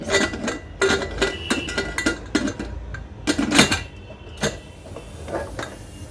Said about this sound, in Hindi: इस पर लिड लगा कर